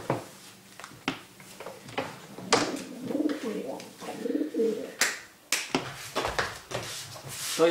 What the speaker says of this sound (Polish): Potężny gołąb.